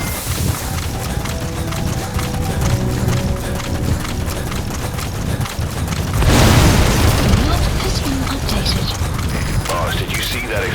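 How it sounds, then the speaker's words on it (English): A large in-game explosion in Metal Gear Solid V: The Phantom Pain erupts as a loud, broad burst of rumbling noise about midway through, over continuous game ambience and sparse background dialogue. "Did you see that explosion?"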